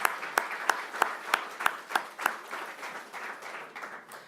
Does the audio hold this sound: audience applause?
yes